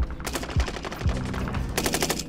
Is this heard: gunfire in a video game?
yes